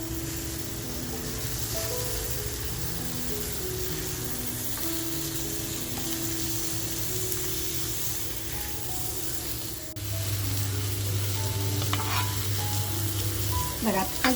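Tandoori prawns fry in a pan with a steady crackling sizzle, close and continuous, while a tonal hum runs underneath and grows louder in the last few seconds.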